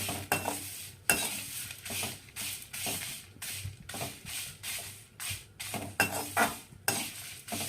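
Jolphai, Indian olives, roast in a pan for pickle, with a light sizzle under repeated rhythmic scraping and clinking as they are stirred, close and fairly quiet.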